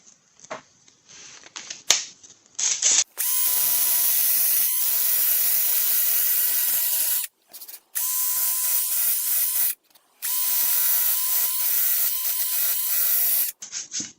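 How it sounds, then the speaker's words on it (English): A cracked plastic Polaris RZR hood is sanded by hand in long rasping passes, loud and close, separated by short pauses. "I'm gonna get sanding."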